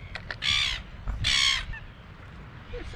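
A crow calls twice with harsh, loud caws near a coastal seal colony and walkway at Kaikōura, New Zealand, with faint ambient wind and a few softer sounds between the calls.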